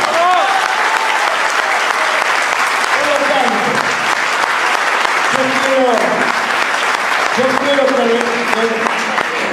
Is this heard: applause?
yes